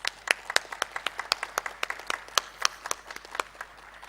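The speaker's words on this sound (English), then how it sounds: "A round of applause for Sir, please." An audience at a panel discussion gives a round of applause, with sharp individual claps ringing out in a steady, moderately sparse rhythm that continues without pause.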